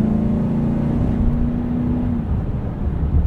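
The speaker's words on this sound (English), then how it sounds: "This V8 is responsive." Steady engine drone from a 2024 Chevrolet Silverado 1500 High Country's 6.2L V8 while driving, a sustained low hum with a tonal line that fades after about two seconds, heard from inside the cab with no talking.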